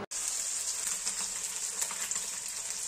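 Fish fries in a pan with a dense, even sizzle that holds close and steady throughout after a very brief gap at the start.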